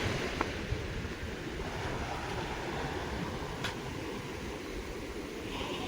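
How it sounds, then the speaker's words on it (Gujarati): Sea waves breaking on the shore near a fishing spot: a steady, dense roar of surf mixed with wind noise across the mic, with a couple of faint clicks, with no talk. "આ મોજો ખેડે જ ત્યાં બાજુમાં જ છે જો"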